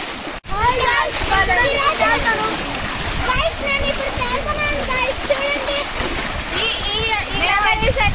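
Water splashes continuously at a village swimming spot as people play in it, the churning splash loud and close, with excited children's voices and shouts throughout.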